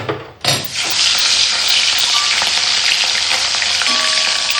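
Loud, steady sizzling of large fish pieces frying in hot oil in a wok, starting with a sharp burst as pieces hit the pan, then a constant crackling hiss.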